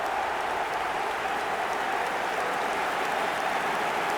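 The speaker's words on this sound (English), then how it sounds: "Even some of the opposing fans are clapping that." Steady, dense crowd applause from a stadium in the eFootball video game, a continuous wash of clapping with no talk over it.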